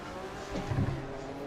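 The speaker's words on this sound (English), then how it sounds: "Oh, can you hear the Corvette? That sound of the Corvette?" A Corvette's engine revs in a racing game on the historic 1967 Nordschleife, a steady drone that swells to a louder burst midway before settling back, with no one talking.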